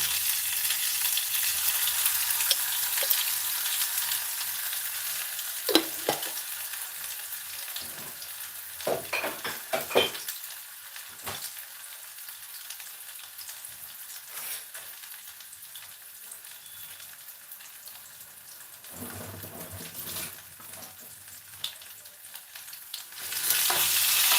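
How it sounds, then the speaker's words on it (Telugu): Ginger garlic paste frying in a pan, a soft, hissing sizzle close by, broken up by intermittent scrapes and taps of stirring, with no voices. "కొంచెం అల్లం వెల్లుల్లి పేస్ట్"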